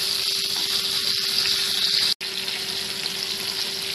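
Stuffed pomfret fish frying in a pan over low to medium gas, a steady bright sizzle that runs continuously with a single brief dropout partway through.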